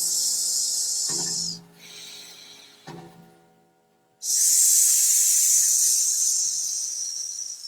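A person imitates a hissing tea kettle with a sustained breathy S sound, twice: a short hiss, a pause with soft breaths, then a longer, louder hiss.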